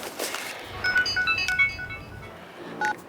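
A phone ringtone goes off at home mid-conversation, a repeating pattern of bright electronic tones that sounds fairly near and clear with no talking over it.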